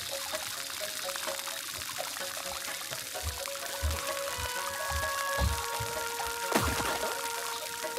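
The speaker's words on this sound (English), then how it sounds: "So take that watering can of yours and drench these dry melons." A watering can pouring water over dry melons in the game Grow: Song of the Evertree, a steady trickling splash with soft chiming game music underneath and a few light thuds.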